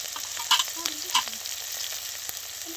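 Cumin seeds frying in hot oil for a homemade dish, a close, steady crackling sizzle with a few sharp pops and light clinks from a utensil, heard alone without talking.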